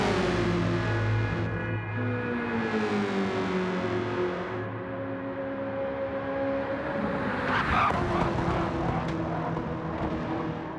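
A race car in a racing video game qualifying shootout brakes into a first-turn corner, the engine note dropping and then rising steadily with gear shifts as the tail steps out slightly, loud and close throughout.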